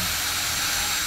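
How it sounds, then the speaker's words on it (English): Power drill pre-drilling a floater frame for a canvas painting, a brief steady high whirring hiss held close and loud for about a second with no talk. "pre-drilling something like this ensures you get the screws in the right place"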